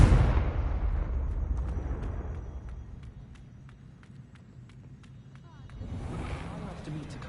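A Confringo spell explosion in the video game Hogwarts Legacy lands as a heavy boom that decays into a low rumble, followed by quiet ticking sounds and a second swelling rumble near the end.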